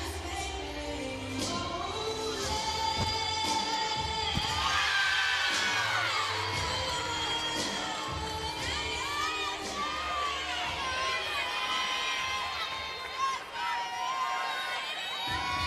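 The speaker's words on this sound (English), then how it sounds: "The whole crowd just had a lot of energy throughout that routine, was cheering after every single skill she completed successfully" A packed arena crowd at a women's gymnastics meet, Oregon State against Alaska and UC Davis, cheers and whoops loudly and continuously, with shrill shouts and whistles over a steady roar of energetic voices.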